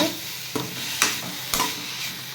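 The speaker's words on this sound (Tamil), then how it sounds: "இதையும் சேர்த்து நல்லா வதக்கிக்கோங்க" Tomatoes and vegetables sautéing in a pan for a veg chapati roll filling, with a steady low sizzle broken by three sharp scraping stirs of a spoon about half a second apart.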